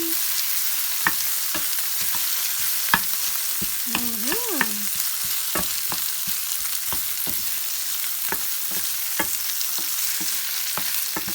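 Garlic frying in a pan with a steady, loud sizzle and sharp scrapes and taps from stirring at irregular intervals, plus a brief whistling tone midway; no talking.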